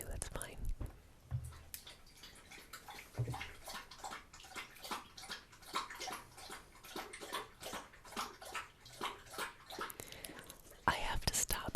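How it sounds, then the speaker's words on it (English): A dog laps water from a bowl in a quiet kitchen, rapid rhythmic wet slurps repeating steadily for several seconds, close and soft, with a brief murmured voice at the start. "I have to stop because that's my dog Jack drinking water."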